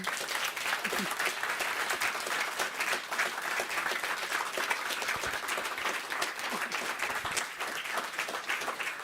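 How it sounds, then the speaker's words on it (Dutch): Sustained, loud clapping fills a theatre hall as an audience applauds a performer at a live stage show, a thick continuous wash of hands with no talk over it. "En nou een heel groot applaus voor Nina Tiemersma."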